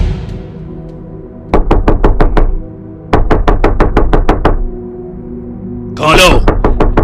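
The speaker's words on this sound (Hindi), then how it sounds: "अचानक दरवाजे पर दस्तक की आवाज आती है।" Knocking on a door, heard as two quick bursts of about half a dozen loud, evenly spaced raps each, separated by a short pause and followed by a brief raised voice.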